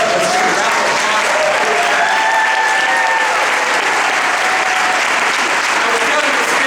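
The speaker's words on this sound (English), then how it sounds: "Let's take a round of applause." A large audience applauds loudly and steadily at a social event speech, a dense wash of clapping with a few cheers rising through it, filling the whole stretch without pause.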